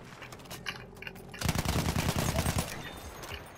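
Rapid automatic gunfire from the Battlefield 1 video game, faint scattered shots at first, then a loud, dense burst of overlapping shots from about a second and a half onward.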